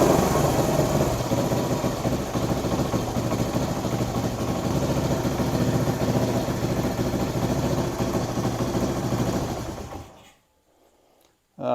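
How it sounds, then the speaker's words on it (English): Kawasaki KL250 motorcycle engine idling slightly low, with a close, steady, rumbling putter that cuts out abruptly near the end, followed by near silence. "We're idling a little bit too low."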